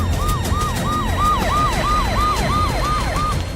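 Ambulance siren wailing in a repeated rising and falling cycle, loud and close, with about ten sweeps in a row over a low vehicle rumble and no voices.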